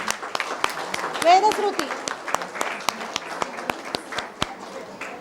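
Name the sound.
audience applause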